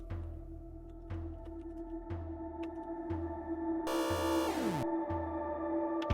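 A taro sound effect in a Lua-programmed video game: a short cascading chime with a descending sweep, heard over a steady looping background beat that pulses about once per second.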